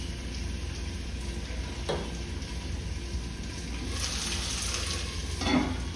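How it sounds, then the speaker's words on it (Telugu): Onions frying in a pan for a prawn and ridge gourd curry give a soft, steady sizzle, quiet and close, with a few brief stirring sounds and no talking. "ఉల్లిపాయలు కొంచెం వేగనిద్దామండి."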